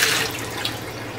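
Tap water runs steadily over baby carrots being washed in a sink, a continuous close splashing hiss with no pauses across the short stretch.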